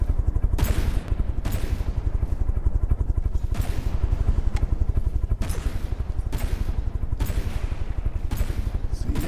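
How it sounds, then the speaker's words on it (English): Cannon shells fire back and forth in a video game battle, a rapid stream of repeated heavy bangs with sharp bursts at irregular intervals, loud and continuous throughout. "See both sides here exchanging cannon shells."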